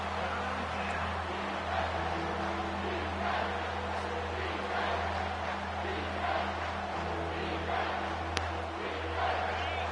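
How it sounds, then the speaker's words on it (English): A roaring stadium crowd in the NCAA 25 football video game keeps up a dense, constant roar for the whole stretch, with no single voice standing out. "this crowd is tearing the lid off this place"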